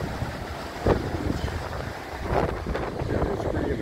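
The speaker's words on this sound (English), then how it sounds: "Probably can't hear me from the wind." Wind blowing across a canyon trail, a steady rushing buffet against the microphone with a few stronger gusts, no voices heard.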